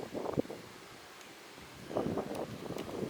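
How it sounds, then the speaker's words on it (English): Wind blows outdoors during an antenna mast setup, coming as two soft, rushing gusts of buffeting on the microphone with a quieter lull between them and no talk. "there is a wind blowing"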